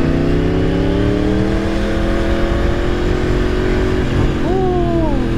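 Motorcycle engine revving hard, loud and continuous, with a rising then falling whine near the end as the rear tire spins, no speech.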